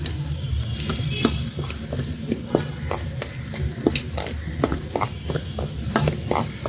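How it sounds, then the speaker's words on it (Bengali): Marinated chicken is tossed and stirred into flour for chicken fry, giving repeated close scraping and soft clinking strokes in a quick, uneven rhythm, with no talking. "মাংসটা একটু বেশি ময়দার ভিতর দিয়ে তারপর মাংসটা মিলাবো এসব ময়দার সাথে"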